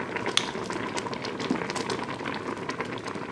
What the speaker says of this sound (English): This is rolling boil.